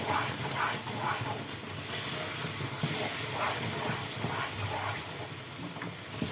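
Hot flour halva hissing and sizzling steadily in the pan as sugar syrup is poured in and stirred, a continuous broad hiss with faint scraping under it.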